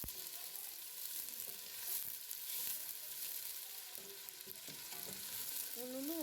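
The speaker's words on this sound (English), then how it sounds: "So you're going to let the onions cook, and then we are going to add other ingredients later." Onions sizzle steadily in a pot as the base for pilau, a continuous close frying hiss with scattered crackles and a few faint clinks, ending with a brief rising whine.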